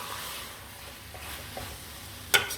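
Bhindi chicken with crushed red chilli is stirred in a pan with a soft, steady sizzle and a few light scrapes, ending in a sharp metallic clink of the spoon.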